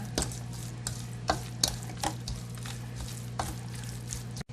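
Seasoning is mixed by hand into beef tripe for a tripe hotpot, giving soft wet squishing and stirring sounds at close range, with repeated small squelches over a low steady hum.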